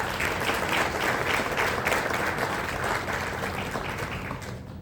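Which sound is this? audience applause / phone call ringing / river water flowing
audience applause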